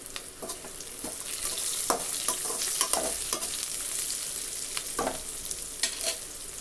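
Black urad dal and tamarind sauté in a pan for thoothuvalai thuvaiyal, with a soft sizzle under repeated scraping spatula strokes and stirring, close and fairly quiet.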